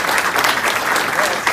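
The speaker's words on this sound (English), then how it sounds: "Let's give them a round of applause." Audience at a GAC gathering gives a round of applause for first-time attendees, steady dense clapping from a crowd that fills the short clip without a break.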